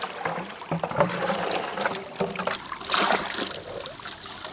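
Water trickles and splashes as it rinses a green gold sluice mat outdoors in Wisconsin, close and uneven, with gurgles and scattered drips.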